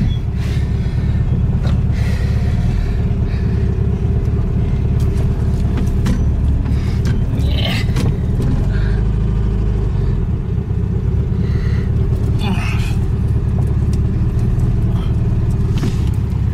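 A VW Beetle engine drives up a driveway, a loud, steady, close low rumble that holds throughout, with faint clatter and creaks on top and no talking.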